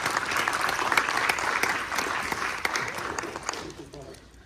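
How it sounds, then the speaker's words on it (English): A crowd at a museum press opening for the Studio Museum in Harlem claps in a lively burst of applause, loud at first and gradually thinning out toward the close. "Let's give them a round of applause."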